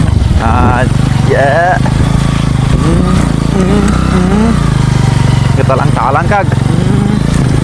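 A motorcycle engine runs steadily at close range on a rough rural road, a low continuous drone under loud, animated talk from the rider.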